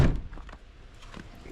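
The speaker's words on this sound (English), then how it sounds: "Nope, door didn't close." A car door thunks against the frame without latching in a home garage, one dull knock followed by faint handling noise.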